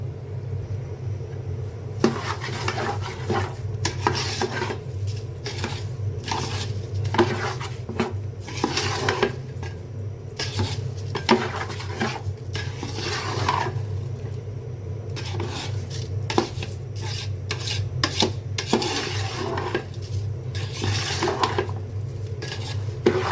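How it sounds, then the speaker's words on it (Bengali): Rice goes into mustard-oil spice masala in a pot for beef tehari, with repeated scraping, stirring and metallic clinks of a utensil against the pot over a low steady rumble. "এখন এই মশলার ভিতরেই তেল মশলার ভিতরে চাল দিয়ে দিব।"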